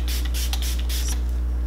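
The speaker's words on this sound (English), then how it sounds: "I'm gonna spray my face using this Smashbox Photo Finish Primer Water." Smashbox Photo Finish Primer Water misted onto a face in a few quick hissing spray bursts, close and crisp, over a constant low electrical hum.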